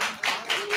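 Clapping from a church congregation during a Christmas morning service, a close, continuous wash of many hands swelling in a few brief surges.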